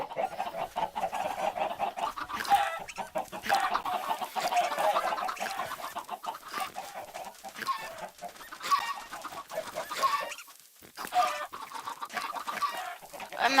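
Minecraft chickens cluck repeatedly in a game world, a series of short mid-pitched clucks and chirps scattered over several seconds at moderate volume with no talk over them.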